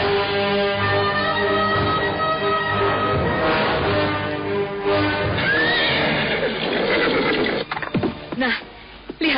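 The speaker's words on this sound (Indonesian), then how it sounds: "Tapi dari arah ujung jalan muncul serombongan orang berkuda." Horses neigh and whinny while hooves clip-clop for a group of riders approaching along a road, a radio drama sound effect; steady and close, with a busier burst of hoof clatter near the end.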